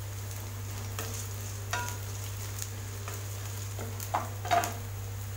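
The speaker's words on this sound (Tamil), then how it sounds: "வெங்காயம் நல்லா வதங்கியாச்சு. இப்போ இதோட ஒரு 2 பச்சை மிளகாய் சேர்த்துக்கலாம்." Onions and green chillies sauté in a pan for a soya bean gravy: a soft, steady sizzle under a low hum, broken by several scraping stirs of a spoon against the pan that grow louder toward the end.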